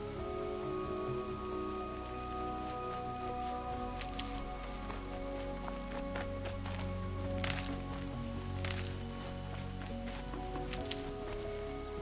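Steady rain falls on surfaces in the video game Horizon, a dense continuous patter with scattered sharper drips and a low rumbling bed, even and moderately close throughout.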